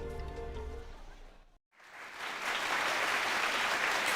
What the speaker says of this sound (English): loud cheering and applause broke out